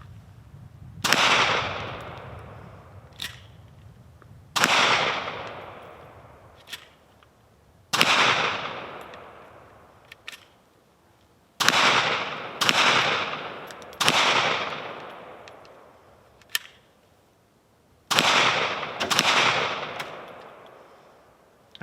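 A Kel-Tec PMR30 pistol is fired in bursts, about eight strings of sharp reports at intervals over some twenty seconds, each burst loud and close with ringing decay between volleys and no talking.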